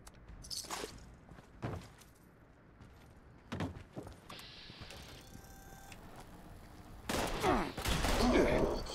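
Gunfire and rocket blasts from enemies, mole miners and a mole rat, attacking in the video game Fallout 76, bursting in several loud sharp volleys with a denser barrage at the end.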